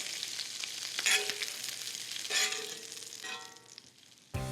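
Onions and peppers frying in the rendered fat of sweet Italian sausage, a constant hiss of sizzling punctuated by a few stirring bursts and a clunk near the end.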